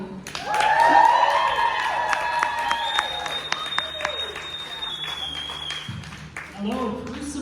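A comedy variety show audience applauds and cheers to welcome comedian Matt Ragalie to the stage, a loud sustained crowd clapping that gradually thins, with a voice speaking near the end.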